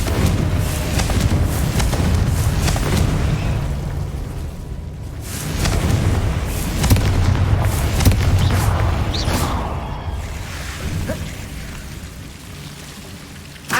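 Confringo spell blasts in the Hogwarts Legacy video game burst out as dense, crackling explosions, loud and continuous, swelling around the middle and fading at the end, with no one talking.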